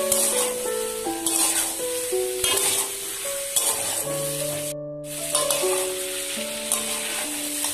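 Radish, eggplant and potato with turmeric in a pan over a low flame, a soft continuous sizzle with occasional stirring scrapes, while tonal background music plays over it.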